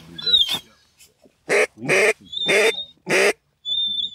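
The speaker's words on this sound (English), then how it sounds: "Ben is using the sick duck call." A duck hunter blows a sick duck call, giving a series of short, raspy, nasal quacks in uneven bursts, loud and close, with thin whistly tones in the gaps.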